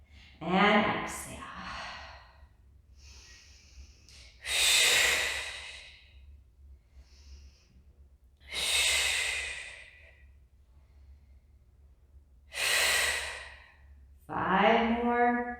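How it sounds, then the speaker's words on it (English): Several loud, breathy exhales during a fit ball exercise class, spaced a few seconds apart, with softer breaths, sighs and faint gasps in between; close to the microphone, no talking. "And exhale."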